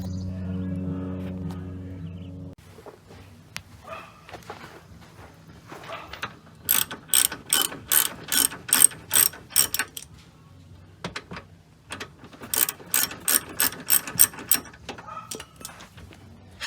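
A ratchet wrench unscrews a bolt on the front control arm of a Mercedes X204 GLK, rapid clicking in two bursts of steady pulls with a brief pause between, close and loud, after a short stretch of low background hum.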